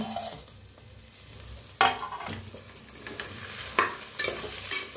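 Leftover masala roasts and gets stirred in a pan for a spicy North Karnataka brinjal dish, a soft sizzle broken by sharp scrapes and spatula knocks against the pan.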